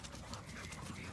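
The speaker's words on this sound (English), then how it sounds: "Galloping." A horse gallops across a grassy green, hooves clip-clopping in a steady, close rhythm over a low outdoor rumble, with no voices heard.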